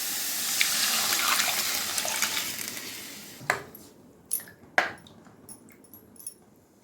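Tamarind water pours into a pan for thoothuvalai rasam, a rushing splash for a few seconds, followed by quiet spells punctuated by sharp metallic clinks of utensils.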